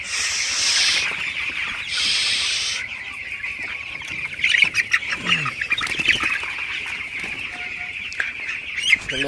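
Broiler chickens cluck and squawk in a busy coop, with overlapping calls near and far and a shrill burst of noise early on.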